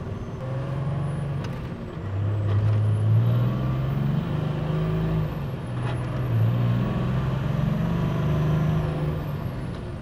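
A diesel engine runs steadily under turbo boost, a loud, continuous low drone with a rising and falling pitch that stays close and unbroken for the whole stretch.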